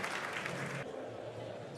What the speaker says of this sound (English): His wife Sophie giving him a well-deserved round of applause.